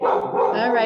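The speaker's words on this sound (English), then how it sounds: "I apologize for my dog, guys, if you hear her." A pet dog barks in a short, loud burst close by, overlapping a man's brief speech.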